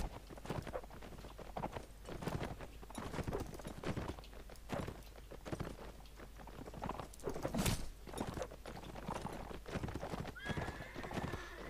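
Horses galloping in the video game Mount and Blade Warband, a steady run of hoof clip-clops across the whole stretch, close and loud, with a whinny near the end and battle clatter mixed in.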